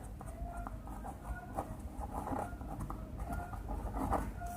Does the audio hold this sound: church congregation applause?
no